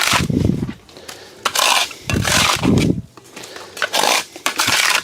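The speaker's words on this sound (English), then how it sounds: "I'm going to scrape this excess off" Repeated rough scraping of excess compost across a screening grid, several rhythmic gritty strokes close by, each a loud rasping burst separated by short pauses.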